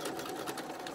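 A sewing machine running a backstitch on a face mask seam, a brief close continuous whirring buzz with a quick regular needle rhythm, no voices.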